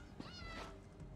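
A cat in The Elder Scrolls Online gives a single short meow, close and fairly quiet against faint game ambience.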